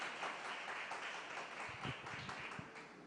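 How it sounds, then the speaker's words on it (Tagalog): Faint, steady applause from a congregation clapping together in praise during a church service, a soft continuous wash of many hands heard from a distance. "Sabay-sabay nga nating palakpakan ng ating mahal na Panginoon"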